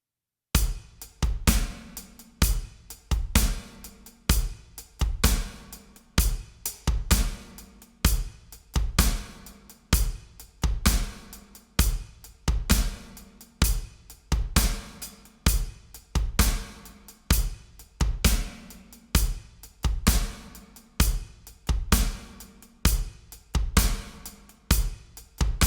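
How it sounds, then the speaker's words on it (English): Drum kit playing a basic backbeat groove of steady hi-hat, kick drum and snare, with evenly spaced sharp hits repeating in a tight loop at moderate level, no voices. "If you just played that with the hi-hat and the kick drum part, it would sound like this"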